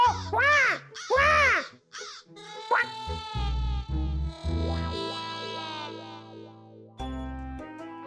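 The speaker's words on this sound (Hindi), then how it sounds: "बेबी शायद कौवा है. कौवा." A crow caws several times in loud, harsh, distorted bursts with a warbling effected tone, followed by a sustained processed musical drone and rising chirpy effects, all up close with no talking.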